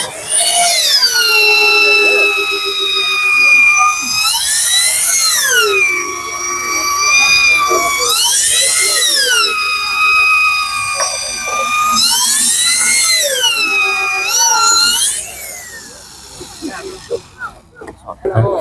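A power drill boring holes for bolts while a new house is being built. The motor whines loudly and close, its pitch swinging repeatedly up and down as it revs, before cutting out near the end.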